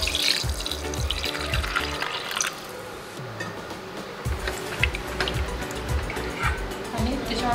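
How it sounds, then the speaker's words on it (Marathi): Water is poured into a pressure cooker holding lentils, turmeric and a spoon of oil, a continuous splashing and gurgling run of liquid heard under a person speaking. "त्यात आपण पाणी टाकू"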